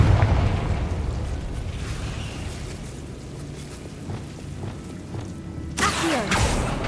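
The Confringo fire spell bursts in the video game Hogwarts Legacy with a low rumbling boom, a few scattered pops and mechanical noises, then a sharper crackling burst near the end.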